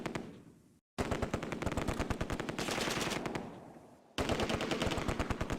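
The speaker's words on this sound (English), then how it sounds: "the paratroops start firing at the German troops in the woods" Paratroopers fire on German troops in woods during a Close Combat World War II game, sustained rapid machine gun bursts rattling loudly with a couple of short breaks.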